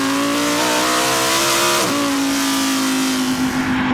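A Lamborghini Huracan EVO RWD with a naturally aspirated engine, revving loud and close, its pitch climbing, dipping sharply near the two-second mark, then holding a steady high whine.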